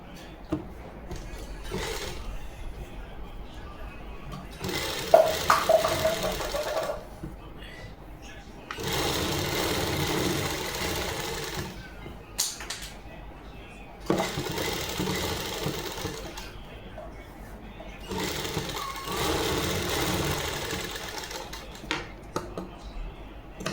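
Lace is stitched onto a Punjabi suit in repeated sewing machine runs, several steady whirring passes separated by pauses, with someone talking between and over them.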